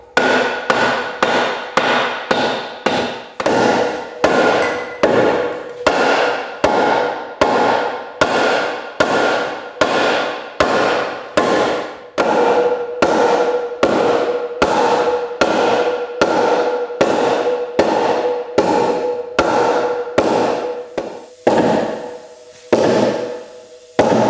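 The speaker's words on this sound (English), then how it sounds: "Not really quite the professional way to do it with block of wood and hammer." Repeated sharp hammer blows on a wooden block, driving a cylinder liner into the engine of a 70-year-old London double-decker bus, a long steady series of loud knocks at an even rhythm, close by, with a few quicker strikes at the end.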